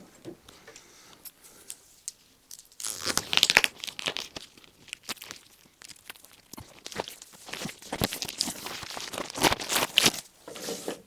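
Mohair canvas hood fabric for a Land Rover Defender top is handled and shifted, producing bursts of crisp crinkling and rustling, quiet at first and then louder and busier in irregular waves close up.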